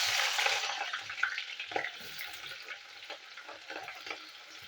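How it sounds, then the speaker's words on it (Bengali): Diced onions fry in mustard oil in a kadai, a soft hiss that starts louder and settles, with scattered crackles and light stirring scrapes, close and quiet with no voices. "এই ডাইস করা পেঁয়াজ আমি ফ্রাই করব ফার্স্টে"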